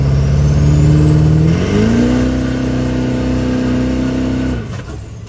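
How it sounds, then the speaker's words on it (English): Duramax diesel truck engine revs hard and steady near the microphone, holding high RPM, stepping up in pitch partway through, then dropping back sharply toward the end, with no voices. "it just really gets your engine RPMs up, get your load up"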